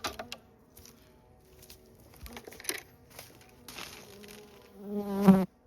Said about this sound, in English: He had a bee checking out the lens there